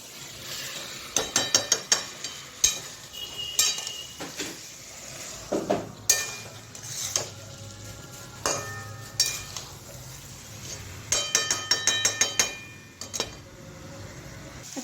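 Chicken being stirred and sautéed for chicken kosha, a spoon scraping and clanking against the pan in irregular bursts over a faint sizzle, close and fairly loud, with no talking.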